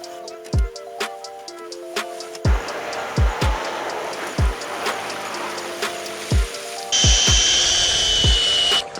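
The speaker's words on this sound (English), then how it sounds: "I've got a drill, 20-volt lithium drill with the drill paddle on here" A 20-volt lithium cordless drill fitted with a paddle attachment whirs steadily beneath repeated thumping tonal beats, its noise growing noticeably louder and higher-pitched near the end.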